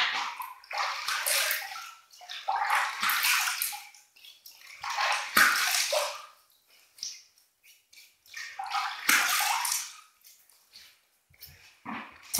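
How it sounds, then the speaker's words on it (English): Hot water scooped from a shaving bowl and splashed onto the face before a wet shave, several separate splashing bursts broken by short quiet pauses, close and moderately loud. "let's get the hot water out of my bowl and let's wet my face a little bit"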